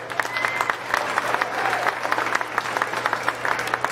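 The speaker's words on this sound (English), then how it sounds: "Let's give her a big round of applause" An audience at a county fair sheep show breaks into steady applause for a lamb exhibitor in the scramble class, dense overlapping claps under a low constant hum, fairly close and sustained.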